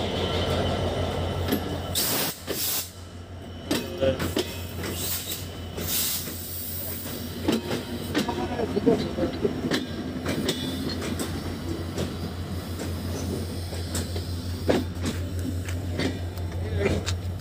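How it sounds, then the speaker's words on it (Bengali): A train pulls into Noapara railway station at speed and gradually slows, giving a continuous loud rumble with rattling wheels, clanks and hissing brakes. Faint voices sit in the background. "এই যে ট্রেনটা চলে আসছে অনেক দ্রুত গতিতে। আস্তে আস্তে স্লো করতেছে ট্রেনটা"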